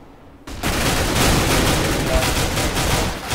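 Frag grenades and gunfire in a Counter-Strike esports match erupt after a brief quiet start, turning into a dense, loud, continuous barrage of blasts and shots that holds steady to the end.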